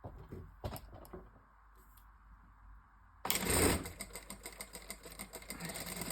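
A Jack A5E industrial sewing machine runs a few quick stitches and then trims the thread with the cutter. Soft intermittent mechanical clicks come first, then a sudden louder burst of motor whir and rattling.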